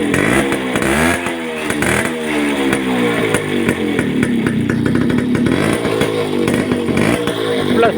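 A TVS 50 moped fitted with a modified RX silencer revs hard nearby, its small engine rising and falling in pitch through repeated throttle blips, loud and raspy throughout with no talk.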